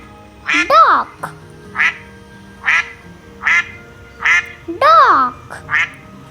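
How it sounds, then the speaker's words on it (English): A duck quacks repeatedly in a steady series of short, nasal calls, some doubled and louder, close and clear with no talk over them. "Duck."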